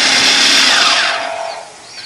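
An electric chopper or blender grinds chilies and shallots in a home kitchen with a loud, steady, high whirring roar that eases slightly toward the end, with no talk.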